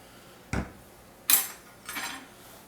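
Metal utensil clanking against a pan while stirring shrimp burrito filling with sriracha, three distinct scrapes and knocks, close and fairly quiet, with no talk.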